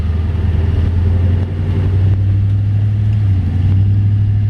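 The 350 V8 engine of a 1955 Chevy Bel Air two-door hardtop restomod with a 700R4 transmission drones steadily and low from inside the cabin while cruising, its tone dipping slightly as it shifts gears.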